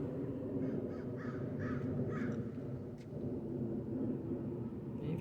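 Crows caw loudly and repeatedly outdoors, harsh calls in bursts over a steady wash of background noise, with no one talking.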